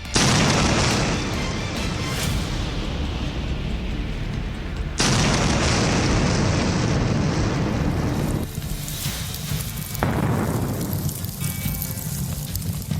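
Heavy, sustained blast rumble with roaring noise from drone strikes in the war in Ukraine, punctuated by sudden loud explosions about every few seconds.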